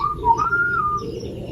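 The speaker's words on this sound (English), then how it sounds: "whistled a little tune" A short, melodic whistle rising and dipping over about a second and a half, clear and close against a soft low background hum.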